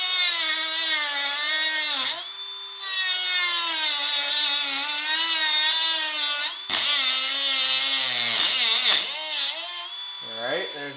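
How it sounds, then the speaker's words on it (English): A Dremel rotary tool cuts through a metal bar on a car, a loud high-pitched steady whine that drops out briefly twice and then wavers as the load changes near the end. "We're just gonna take the Dremel here and just cut out that middle bar"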